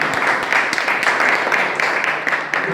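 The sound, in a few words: audience applause for Gulshan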